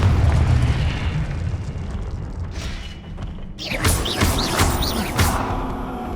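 A fire spell blast in the Hogwarts Legacy video game erupts partway through after a rumbling lead-in, followed by crackling bursts and thuds, loud and close.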